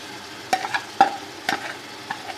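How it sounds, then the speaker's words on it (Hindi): Browned onions dropped into a pan of frying ginger and garlic for chicken Sindhi biryani, heard as a few soft stirring scrapes and light sizzles at a steady pace, close and fairly quiet. "अब इसमें हम प्याज डाल देंगे।"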